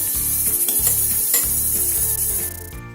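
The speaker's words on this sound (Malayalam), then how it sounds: "അടുത്ത റൗണ്ട് ചിക്കൻ ഇതുപോലെ വറുത്തെടുക്കാം" Steady sizzling and crackling of Kerala-style chicken frying in hot oil, with a few faint stirring clatters, continuous and close, then cutting off near the end.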